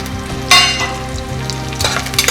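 Cashews, almonds and raisins frying in ghee in a pan, a loud close sizzle with bursts of spatter and scraping stirs over a brief stretch.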